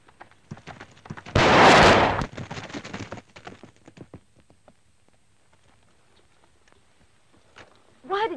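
A single loud, sharp gunshot rings out in a 1945 period film scene near horses, followed by scattered clopping and rustling, with a voice briefly heard at the end.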